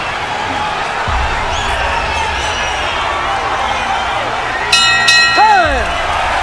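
A boxing arena crowd roars and cheers steadily at the end of a round, with a bell ringing near the end and a commentator speaking over the noise.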